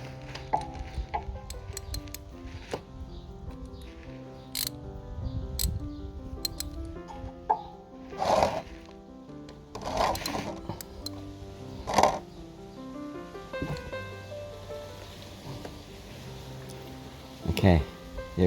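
A wrench works loose the oil drain nut beneath the engine of a Suzuki Let's 4 UZ50 scooter, giving sharp metallic clicks and clinks at irregular intervals, close up, with a voice speaking now and then.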